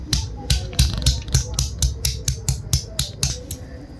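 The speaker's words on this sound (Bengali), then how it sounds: "আদা কাটা শেষ।" Fresh ginger is chopped by hand, a close, loud run of about fourteen crisp knife strikes in a steady quick rhythm, each a sharp tap on the cutting surface.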